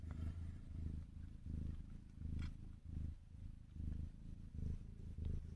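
Tiny kittens purr right against the microphone, a soft low rumbling in steady rhythmic pulses as each breath cycles in and out, quiet and intimate with no talk.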